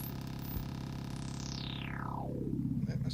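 An Erica Synths Polivoks VCF II filter with its resonance turned up sweeps downward, giving a buzzy synthesizer tone with a whistling peak that slides steadily lower over a few seconds, alone.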